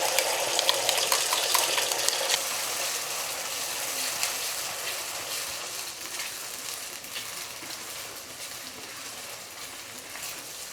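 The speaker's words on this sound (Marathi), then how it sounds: "आता हा मसाला तेलामध्ये छान व्यवस्थित असा फ्राय करून घेऊया।" Spice masala frying in hot oil in a kadai for a spicy chicken rassa, giving a steady, close sizzle with a crackling hiss throughout and no voices.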